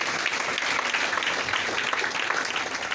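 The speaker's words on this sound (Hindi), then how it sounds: "एक जोरदार ताली ऐसे प्लेटफॉर्म पे।" Audience applause at a DXN health-awareness gathering in India, a dense, steady wash of many hands clapping together at full strength, with no talk over it.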